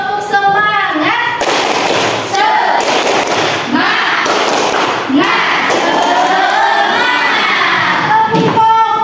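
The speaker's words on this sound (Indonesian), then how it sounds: "Oke, kita tepuk semangat dulu. Tepuk semangat." A school class performs the rhythmic 'tepuk semangat' clapping chant, loud group clapping bursts mixed with chanting children's voices in a classroom, continuous and energetic throughout.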